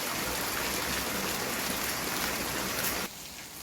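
Heavy rain pours down steadily during the rainy season, a dense, loud, even hiss that fills the whole stretch and drops slightly in level near the end, with no voices.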